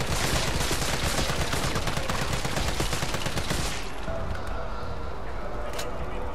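CQBR assault rifle fired in Resident Evil 3 Remake, a loud, sustained burst of rapid automatic gunfire with dense cracking shots that stop abruptly near the end, leaving a faint ringing tail.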